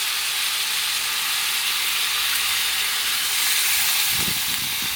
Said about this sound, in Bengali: মোটামুটি একটু ভাজা ভাজা করে নিয়েছি এবার জল দিয়ে দেবো